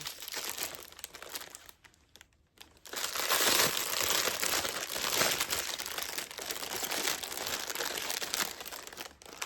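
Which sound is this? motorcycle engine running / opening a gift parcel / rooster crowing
opening a gift parcel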